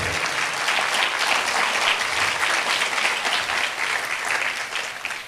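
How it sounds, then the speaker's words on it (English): Audience at a relationship talk at City Hall in Bermuda applauds itself, a dense, steady wash of clapping from many hands that holds loud and even for several seconds before easing slightly at the end. "Please, just give a round of applause for yourself"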